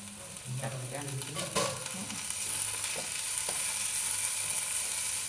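Curry leaves and coriander fry in a pan with steady sizzling, broken by a few stirring scrapes and clinks near the start, continuous and moderately loud with no talking.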